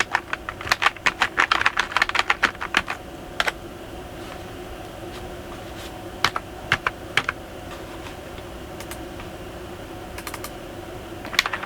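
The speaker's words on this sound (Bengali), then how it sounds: "তো আমরা একটা ইমেল অ্যাড্রেস দিয়ে দিচ্ছি এর পরবর্তী বক্সের মধ্যে।" Someone types an email address on a computer keyboard: quick bursts of sharp key clicks at first, then sparser single taps against a quiet room hum.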